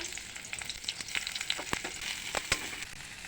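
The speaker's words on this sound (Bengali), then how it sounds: "আমি তেলটা দিয়ে দেব কড়াইতে এখানে এই পেঁয়াজটা দিয়ে দিলাম" Onion frying in hot oil in a wok, a close, steady crackling sizzle dotted with sharp pops and a few louder spits, with no voices.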